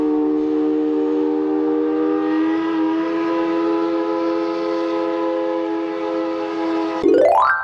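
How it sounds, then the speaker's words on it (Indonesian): A Halloween monster train from the game Choo Choo Charles sounds a long, steady whistle, loud and sustained. It breaks off near the end into a sharp, rising shriek. "Kereta api Halloween."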